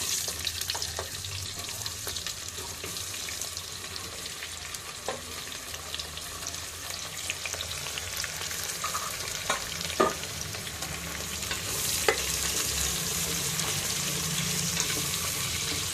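Fennel seeds and onion frying in a pan for pulao, giving a steady, close sizzle throughout with occasional light clinks and stirring scrapes.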